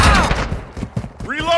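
Dense bursts of automatic gunfire and thumping impacts from a Call of Duty MW2 firefight fill the clip, loud and close, with voices shouting over the shooting.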